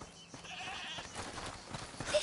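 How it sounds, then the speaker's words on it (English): A goat bleats in the video game A Plague Tale: Requiem, a faint, thin call that sits low in the mix over a steady ambient game soundscape lasting about two seconds. "Is that the goat he talked about?"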